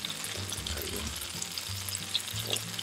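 Birria tacos fry in their own fat with no extra oil, giving a steady, close crackling sizzle with small popping bursts throughout and no talking.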